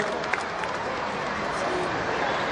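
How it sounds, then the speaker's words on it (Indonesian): Continuous crowd applause at a record-setting event in Indonesia, a dense wash of clapping at moderate level with a few sharper claps standing out, lasting the whole short stretch. "kita berikan tepuk tangan bersama-sama sekali lagi yang paling meriah"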